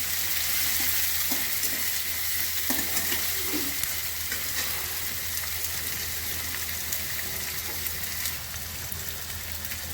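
Grated garlic and ginger, added with onion, frying in a pan for a Bengali mutton and potato curry, producing a steady, dense sizzle with some stirring scrapes early on, close and continuous with no talking.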